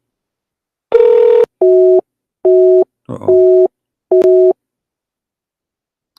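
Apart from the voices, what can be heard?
telephone busy signal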